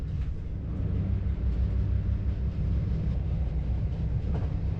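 InterCity HST train running slowly from Pitlochry toward Perth, heard from inside the carriage as a steady low rumble and drone with faint rail clatter, continuous and even.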